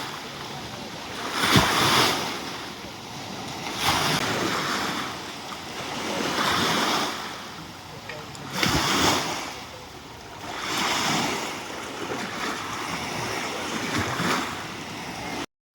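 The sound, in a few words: lake waves lapping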